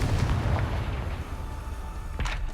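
Confringo fire spell explosion in Hogwarts Legacy, a single loud booming blast at the start that rumbles and fades, with a second sharp burst near the end.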